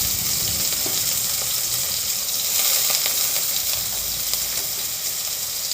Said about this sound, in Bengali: সেই সবজিগুলো একটা একটা করে দিয়ে দিয়েছি আমি।